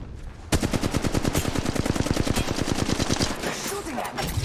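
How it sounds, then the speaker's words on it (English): Rapid automatic gunfire in Apex Legends Mobile, a long steady burst of close, loud shots after a brief pause, with faint game sounds around it. "They're shooting at me."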